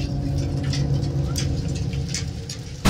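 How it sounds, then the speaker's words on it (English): Hail patters and rattles steadily on a surface, a dense irregular clatter with a low background rumble, ending with a sudden louder burst. "We're having one hell of a hailstorm going on."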